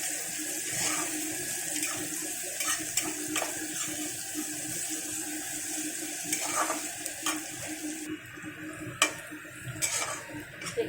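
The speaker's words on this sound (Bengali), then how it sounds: "এবার পেঁয়াজটাকে একটু ভাজা ভাজা করে নেব।" Chopped onion, two medium onions, frying in oil in a pan with a steady close sizzle and occasional scraping stirs and clicks of a spatula throughout, no voices.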